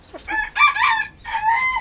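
A backyard chicken coop with a rooster crowing in two long drawn-out calls amid hen clucking, loud and close, with no speech over it.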